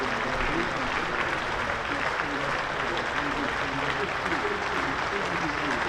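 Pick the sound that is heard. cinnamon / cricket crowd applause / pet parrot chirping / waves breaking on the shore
cricket crowd applause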